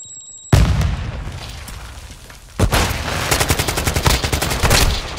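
Loud automatic gunfire in Modern Warfare 2 on a hardpoint match, beginning abruptly after a quiet moment. A sustained close burst is followed by a second rapid volley of shots with booming echoes.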